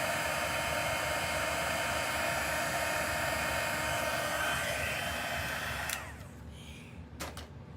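A heat embossing tool blows hot air onto embossing powder, a steady close whooshing roar that runs for about six seconds and then cuts off, leaving a quiet room with a couple of faint clicks.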